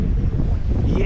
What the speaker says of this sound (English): Oh jeez, that wind.